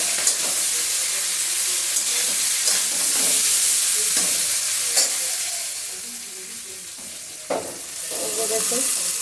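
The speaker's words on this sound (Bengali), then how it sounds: "এখন বন্ধুরা, পুঁই ডাঁটা আর কাঁঠালের বীজ আমার ভাজি হয়ে গেছে।" Malabar spinach stems and jackfruit seeds frying in a pan, giving a steady bright sizzle and hiss with soft stirring scrapes throughout.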